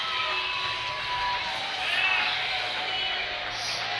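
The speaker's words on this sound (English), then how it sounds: "And listen to that crowd." Crowd at an MMA event, a broad steady roar of cheering voices filling the arena, constant and fairly loud throughout with a commentator's voice faintly mixed in.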